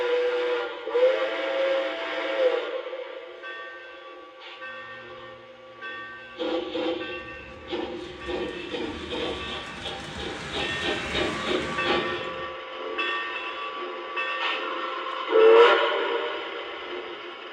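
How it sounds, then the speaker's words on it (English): K-Line Western Pacific GS64 model steam locomotive running, with repeated toots of its synthetic steam whistle over rhythmic chuffing and a burst of hissing steam, fairly close and clear. "This is a Western Pacific GS64 made by K-LINE."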